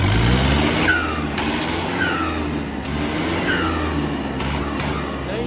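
Tractor engine fitted with a bolt-type silencer, running loud and close in a continuous rumble with throaty revs and popping bursts roughly every second.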